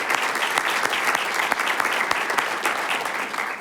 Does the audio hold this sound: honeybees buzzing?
no